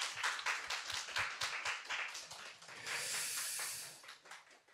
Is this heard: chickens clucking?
no